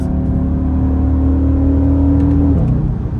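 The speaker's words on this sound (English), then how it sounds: "you get that typical 5-cylinder sound" An Audi RS Q3's 294 kW five-cylinder engine hums at a steady, throbbing idle with a deep burbling tone, then drops slightly in pitch near the end.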